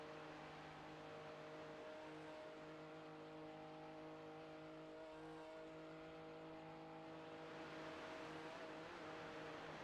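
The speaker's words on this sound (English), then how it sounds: "Hey, that sounds like a wild car," A drag tuner race car engine drones steadily with a faint, even tonal hum, distant and low in level, holding at a constant pitch throughout without sharp revs.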